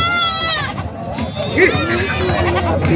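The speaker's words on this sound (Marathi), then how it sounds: "व्यापाऱ्याच्या खूप चांगल्या शेळ्या आलेल्या आहेत" Goats bleat loudly and repeatedly at a large goat and sheep market in Maharashtra, several animals calling close by over a busy background of people talking.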